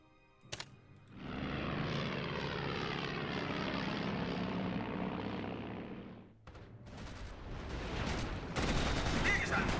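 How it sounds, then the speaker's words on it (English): Propeller recon planes in the Axis and Allies RTS game drone loudly and steadily for several seconds, then fade as sharp bursts of gunfire and battle noise take over. "Let's send recon planes out."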